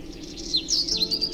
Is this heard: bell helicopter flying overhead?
no